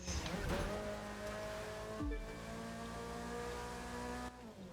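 Car in The Crew 2 racing game losing grip, a sustained engine drone with tonal tire squeal and a sharp downward pitch drop midway, loud and close, with faint talk beneath.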